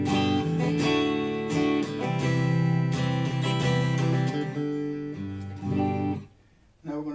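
Electric guitar played through a Blackstar HT-Club 40 valve amp with the tone knob at 12 o'clock, a continuous run of clean strummed chords and picked notes that thins out near the end, with no talking.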